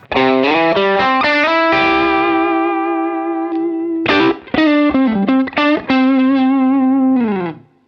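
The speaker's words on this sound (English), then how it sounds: "So a blues breaker style overdrive, and this is how it sounds" An electric guitar plays through a Bluesbreaker-style overdrive pedal, warm sustained notes and bends, loud and close, ending on a held note.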